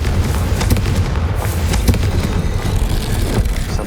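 Confringo fire spell from Hogwarts Legacy bursting in a loud, continuous fiery blast with rumbling booms and crackle, close and forceful, with no talking.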